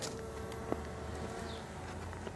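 Honey bees buzzing around a hive during requeening with a Saskatraz queen: a soft, steady, even drone heard from a little distance, with no voices.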